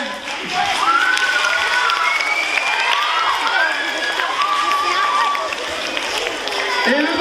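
A live stage-show audience applauds and cheers, a loud, sustained wash of clapping with shouting voices rising and falling throughout.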